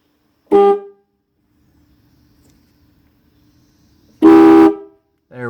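Car horn with its high and low side horns wired to sound together gives two short, loud, close blasts separated by several seconds of near silence.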